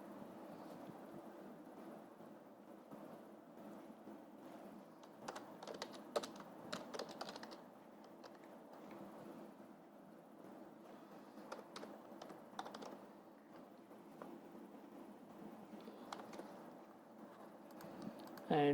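Keys tapped on a computer keyboard while entering data into an Excel form, in irregular bursts of quick clicks separated by short pauses, fairly close and quiet against a faint background hiss.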